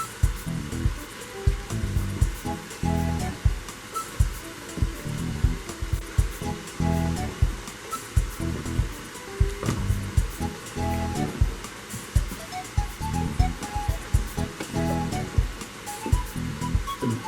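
Water being poured and sloshed while changing the water in a container of radish microgreens grown hydroponically in a garage, a continuous rushing, splashing flow with rhythmic surges, close and fairly loud, no talking.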